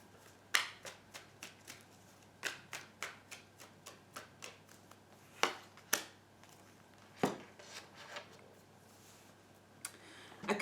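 Tarot cards shuffled by hand, a series of crisp riffling snaps and flicks in irregular bursts, some quick clusters and some single sharp strikes, close and fairly quiet with no talking.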